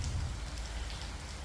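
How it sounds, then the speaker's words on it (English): Heavy rain pours down beside a river in the Dandenong area, a dense, steady hiss of drops drumming on surfaces with a low rumble underneath, constant and close. "all of a sudden it started pouring with rain"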